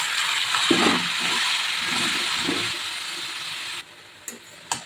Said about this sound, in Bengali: এবার এটা খুব ভালো করে এর সাথে মিক্স করে নেব